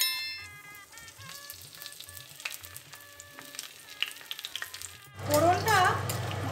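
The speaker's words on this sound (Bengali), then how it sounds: "এবার কড়ায় সর্ষের তেল দেব, শুকনো লঙ্কা, জিরে, গোটা গরম মশলা আর গাছ থেকে টাটকা পাড়া তেজপাতা সব একসাথে আমি" Spice tempering of dry red chilli, cumin, whole garam masala and fresh bay leaves dropped into hot mustard oil in a wok, with a sudden loud sizzle and crackle breaking in near the end after quieter background sounds.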